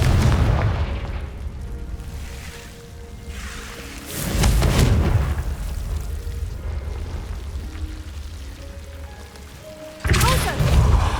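Two heavy booming blasts from the Confringo fire spell in Hogwarts Legacy, one at mid-clip and one near the end, each a sudden loud burst with a rumbling tail over low background game ambience.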